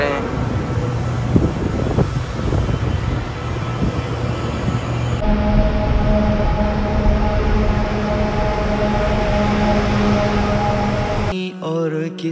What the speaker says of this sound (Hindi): ये ट्रैक बना हुआ है, यहाँ पे अभी ट्रेन आएगी